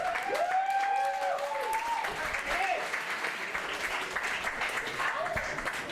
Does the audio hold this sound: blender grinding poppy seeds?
no